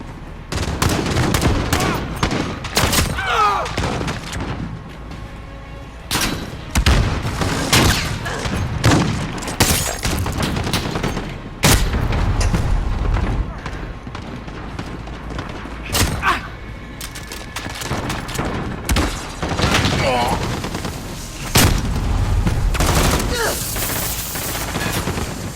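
Gunfire fills a Call of Duty: Modern Warfare match, with repeated shotgun blasts, automatic bursts and thuds coming in loud, dense clusters across the whole stretch, while a player occasionally talks over the action.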